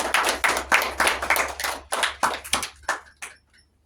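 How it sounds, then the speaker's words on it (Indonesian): A small classroom group of students claps briefly, the applause scattered and uneven, fading out after a few seconds. "Beri tepuk tangan buat Mbak Sania."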